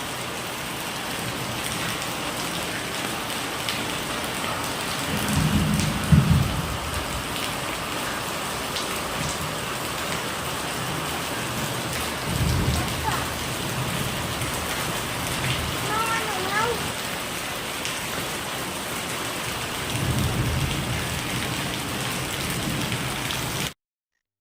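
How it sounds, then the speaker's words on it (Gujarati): Heavy unseasonal winter rain pours steadily at a village school, with a few low thunder rumbles rising out of the downpour; a voice talks over the rain at times. "વીજળી તડાકા ભડાકા થાય જુઓ"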